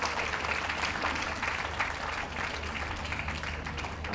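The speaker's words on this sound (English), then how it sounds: "Can we have a big round of applause" An audience at a dog show's hound group judging claps steadily, a broad even roar of applause in a large hall that stays at constant strength with no voices on top.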